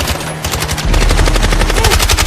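Heavy gunfire in an intense firefight in a building's corridors: rapid, loud automatic bursts pounding in a steady rhythm, growing denser and heavier partway through.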